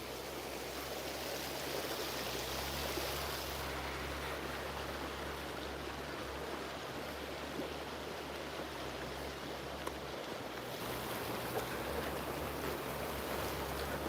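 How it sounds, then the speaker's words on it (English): A stream flows steadily outdoors, a soft, distant wash of water running without pause, faint and even throughout, with no voices. "So that water I can hear even all the way to my house"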